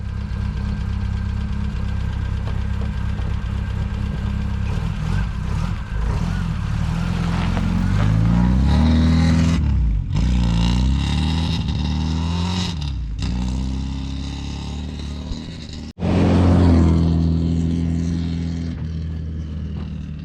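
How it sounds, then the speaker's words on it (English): A Saab Sonett's engine idles with a steady mid-pitched rumble, then revs up in several strong surges that rise and fall, loud and close, with a brief cut near the end before it roars again. "I freaking love this car. It's running so well"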